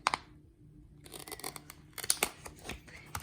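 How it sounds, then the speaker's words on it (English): Scissors snip through pieces of heat transfer vinyl for a leather earring craft, giving several sharp close cuts with short pauses between them and a faint rustle of the sheet. "What I like to do is just cut the pieces where my vinyl has cut"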